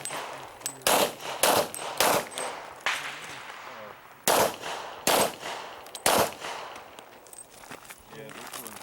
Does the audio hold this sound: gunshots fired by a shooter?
yes